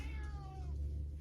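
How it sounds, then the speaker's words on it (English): A domestic cat lets out a single drawn-out meow that falls in pitch. It is close and clear over a low steady hum, with no talking. "I have a cat too."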